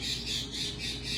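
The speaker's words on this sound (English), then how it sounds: "I apologize for the noise, the birds are making." Birds squawking nearby in loud, rapid repeated harsh calls that pulse several times in quick succession, with no talking.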